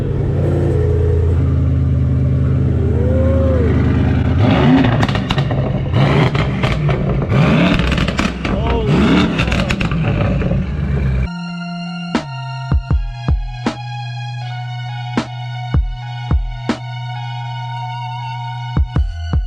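A tuned 1,000 hp Mercedes-AMG E63 with a full exhaust roars loudly, then falls to a deep, throbbing idle punctuated by short revs.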